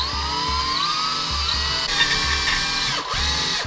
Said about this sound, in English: So we're gonna go ahead and drill 2 holes and see how that comes out.